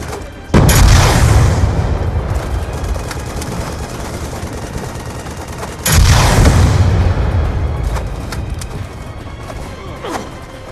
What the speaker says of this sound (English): You press L1 to detonate the missile. You want to detonate it above these guys' heads.